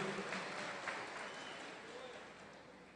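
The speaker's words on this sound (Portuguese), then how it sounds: "Pode aplaudir o Senhor de verdade" A church congregation applauds during a sermon, a steady wash of clapping that holds at an even level for the whole stretch with no voices standing out.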